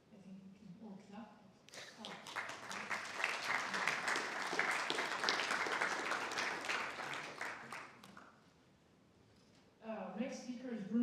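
A symposium audience breaks into clapping after a talk, a sustained round lasting about six seconds that fades out, with a speaker's voice before and after it.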